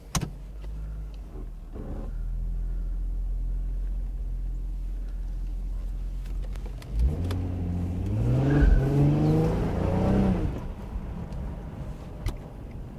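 Nissan 350Z on a test drive: steady engine drone inside the cabin, then a surge as the car accelerates and revs climb through rising harmonics before easing off, no talk.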